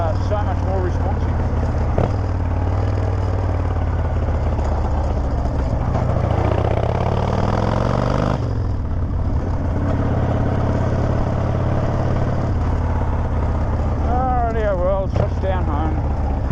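A Harley-Davidson motorcycle fitted with a new air filter is ridden along, its steady engine drone mixed with rushing wind throughout, with a voice faintly audible at times.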